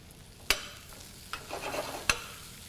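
Thinly sliced shallot, minced garlic and ginger frying in oil in a saute pan, heard as a faint low sizzle with a few sharp clicks of a utensil against the pan, quiet and close.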